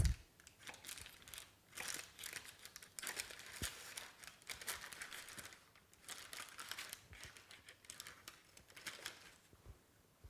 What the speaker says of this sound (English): I'm just going to cut up the butter into little dices.